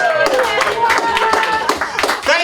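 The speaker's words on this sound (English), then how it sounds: "Thank you for your applause." Scattered audience clapping at a winter antifolk music festival, a few close hand claps mixed with voices talking over them throughout.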